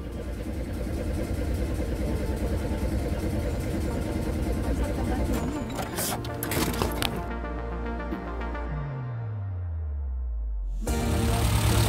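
A car engine starts right away after its wires are swapped, then runs and idles steadily and loudly. Its pitch drops and fades partway through before the engine picks up again near the end.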